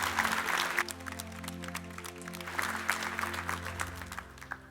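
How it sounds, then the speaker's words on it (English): Church congregation clapping for people being baptized, heard over loud sustained music with a steady bass and organ-like tones, the claps sounding as scattered sharp bursts throughout. "Can we applaud that?"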